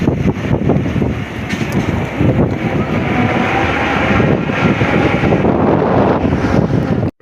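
Strong wind at sea aboard a fishing boat, heavy buffeting gusts battering the microphone over a constant rushing roar and wave noise, no speech.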